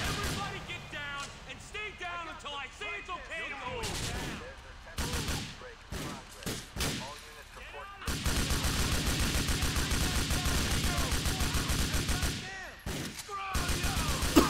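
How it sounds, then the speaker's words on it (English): Gunfire and explosive blasts from Grand Theft Auto IV, including a rocket launcher, come as sharp repeated bursts and sustained volleys, loud and close, with someone talking over parts of it. "I'm gonna use the rocket launcher."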